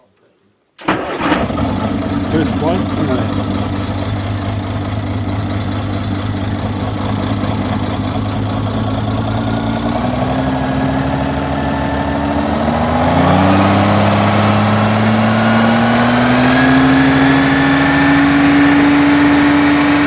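A Commer TS3 engine cranks and fires after a moment of quiet, then settles into a loud, steady idle that rises in pitch as it is revved partway through. A voice speaks briefly near the start.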